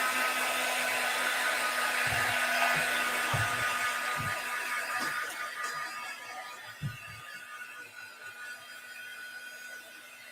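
A hand dryer blows steadily over a craft project, a constant airy hiss that slowly fades, with a few soft low knocks underneath.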